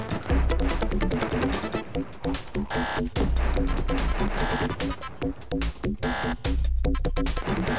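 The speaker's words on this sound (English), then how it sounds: "that buzzing sound is annoying." A harsh, relentless electronic buzz from the NES game Action 52 drones loudly and choppily throughout, with pulsing rhythmic bursts under game noise.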